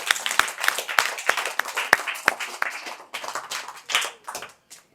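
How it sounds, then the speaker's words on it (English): Light applause from a small class group after a craft lesson on making a Christmas log cake, a handful of scattered hand claps at irregular intervals, close by and fading out by the end, with no talking. "You can applaud yourself."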